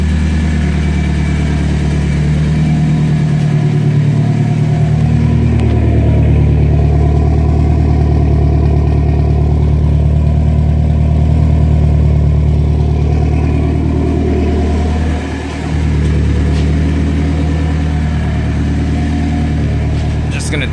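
A turbocharged BMW E30 M42 engine with a single-mass flywheel runs steadily at a loud, rumbling idle, with a slight dip in revs near the end.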